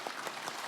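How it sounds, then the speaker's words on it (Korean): A short burst of audience applause at a business New Year gathering, a dense patter of many hands clapping steadily and fairly quietly for under a second. "여러분 박수 한번 쳐주시기 바랍니다."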